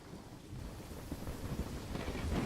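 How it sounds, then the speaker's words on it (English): A thunderstorm rumbles low and heavy under steady rain, the roll of thunder swelling and growing louder over a couple of seconds with no voices. "This storm's getting really bad."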